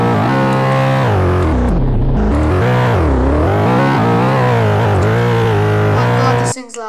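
A Roblox game car engine drones loudly and continuously, its pitch rising and falling as it revs and shifts, with a buzzy distorted tone and an abrupt stop at the end.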